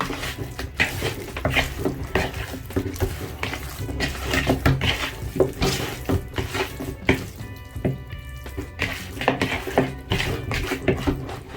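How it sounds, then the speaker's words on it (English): Seasoned chicken pieces being mixed in a pot with onions on the way, steady sizzling and frying under repeated scraping stirs and clinks of a utensil against the pan. "Then I'm going to mix this and ensure all the pieces are well coated."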